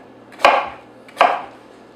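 Knife chopping a vegetable into one-inch pieces on a cutting board, two crisp loud knocks about three quarters of a second apart, close up with nothing else heard.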